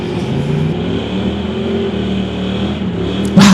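Two Ford Mustangs, a fastback and a standard model, launching side by side at a street-legal drag race: a loud, sustained engine roar at a distance, steady and droning, with a sharp rise in level near the end.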